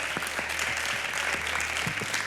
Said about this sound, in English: So give our panelists a big,